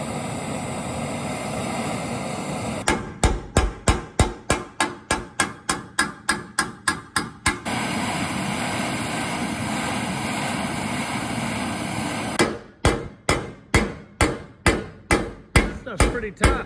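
A hammer strikes metal exhaust pipes on a 1970 car fitted with triple Holley carburetors. Two quick, steady runs of sharp, loud blows are separated by a pause, all over a constant background hum.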